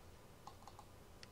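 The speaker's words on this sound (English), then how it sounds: "I'm hearing a little typing in the background" A computer keyboard clicks faintly in the background during an online meeting, a few sparse, soft keystrokes over a low steady hum.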